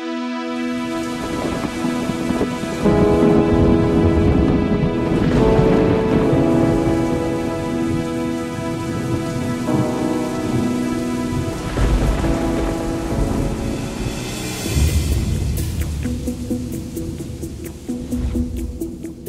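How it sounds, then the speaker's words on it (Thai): A thunderstorm with heavy rain: dense, steady downpour roaring throughout, with deep rumbling thunder rolling repeatedly and a sharper crack late on, loud and close. "พายุผ่านพ้น"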